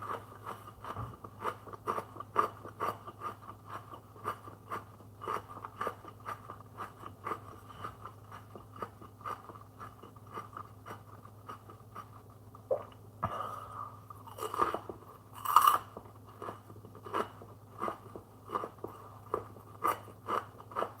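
Frozen pizza chewed and crunched close to the mic, a steady rhythm of soft bites throughout with a louder crunch or two in the middle.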